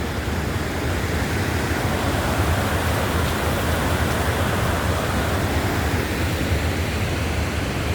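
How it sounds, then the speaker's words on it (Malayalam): Water released from the Lower Sholayar dam rushes in a dense, steady roar, loud and unbroken throughout with no voices. "ഇതാ ലോവർ ഷോളയാറിൽ ഡാമിന് തുറന്ന വെള്ളം"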